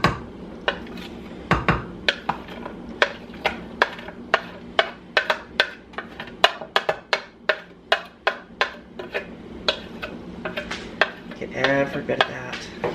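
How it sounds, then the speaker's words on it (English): Diced onion and garlic cloves go into a pan for a chili dog casserole, followed by a run of sharp, close clinks and knocks of a utensil against the pan over a light sizzle. "I'm going to go ahead and throw my onions and my garlic in here."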